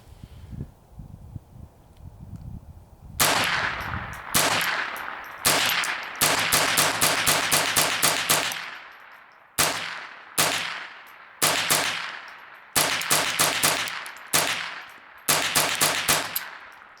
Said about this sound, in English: We're going to test the magazine for feeding. So I'm going to start off slow, do some rapid fire, and see how it goes.